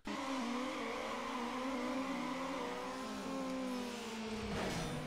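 Engine revving hard with tire squeal in Need for Speed Underground racing, a loud continuous strained roar with rising and falling pitch sweeps throughout, no talk.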